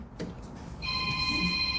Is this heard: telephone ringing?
yes